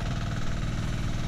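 A machine engine runs steadily at idle nearby, a constant low throbbing rumble with slight vibration and no voices.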